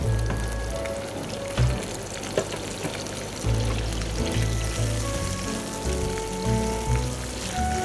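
Sausage, olives and capsicum fry in a pan with a loud, steady sizzle and crackle, close up and continuous, with occasional bumps from stirring and no talking.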